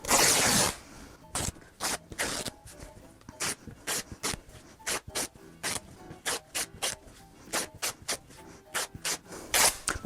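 Fabric strips are ripped by hand for sewing cushions, a long opening tear followed by a steady run of short, sharp ripping bursts, close and loud.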